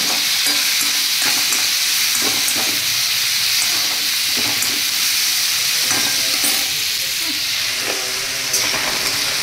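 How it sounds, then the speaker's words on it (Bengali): Charchari of red amaranth, water spinach and mixed vegetables stir-fries in a wok, giving a steady loud sizzle with steamy hiss and repeated scraping stirs across the whole stretch, no voices. "আর এখানে চচ্চড়ি ভাজা হচ্ছে"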